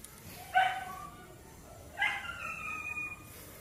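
Two short, sharp barks from a dog a little way off at an abandoned house, separated by a pause, with a faint high whine and quiet room noise between them.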